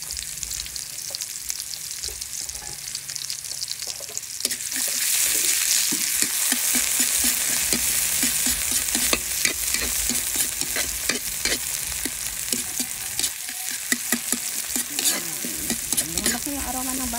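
Onions sauté in a pan for a ground meat dish; a soft background swells into a loud, crackling sizzle about a third of the way in, with repeated stirring scrapes.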